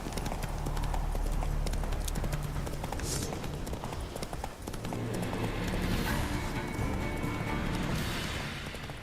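Roach, Geralt's horse in The Witcher 3 video game, gallops with a steady, loud clip-clop of hooves running throughout over a background of game ambience and music.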